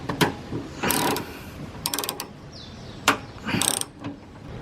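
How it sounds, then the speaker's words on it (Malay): A socket wrench ratchets in short bursts of rapid clicks while loosening two size 10 bolts holding a car door handle inside an opened door, close up, with pauses between strokes and no talking. "Kita kena gunakan soket."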